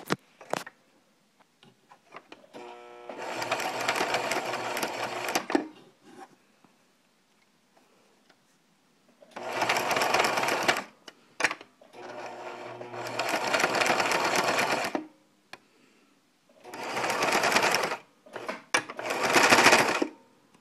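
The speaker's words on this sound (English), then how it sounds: "you're just going to sew back and forth a couple times to secure it" A sewing machine stitches back and forth across a fitted cloth diaper in four separate bursts of rapid, close mechanical whirring, with quiet pauses between them.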